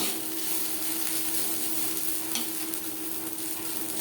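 Brahmi greens and potato stir-fried in a pan, giving a steady, close sizzle with light scraping of the stirring spoon throughout, and no voices.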